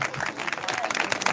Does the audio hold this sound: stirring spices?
no